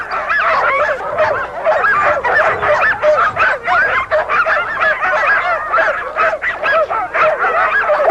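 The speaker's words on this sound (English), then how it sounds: "When they know they're going to pull a sled, they get very excited." A team of sled dogs barks and yelps excitedly before pulling a sled, many voices overlapping in a loud, continuous, high-pitched chorus close by.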